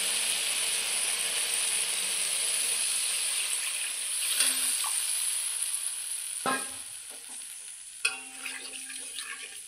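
Water poured into a hot pan of fried rice and spices sizzles with a steady loud hiss, followed by a few sharp spatters and clinks from stirring near the end.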